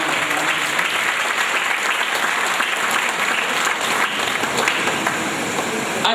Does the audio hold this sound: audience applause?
yes